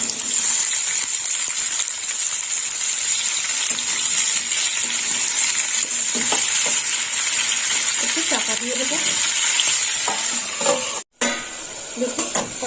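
Yardlong beans and potatoes stir-fry in oil with a continuous loud sizzle, occasional clinks of a utensil against the pan and a voice briefly talking, then a short cut near the end before sizzling resumes.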